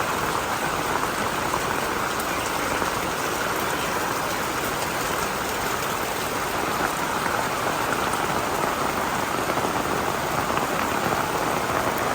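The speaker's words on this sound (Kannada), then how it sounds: "ಮಳೆ" Steady, dense rainfall pattering on a surface, continuous and fairly loud throughout with no voices.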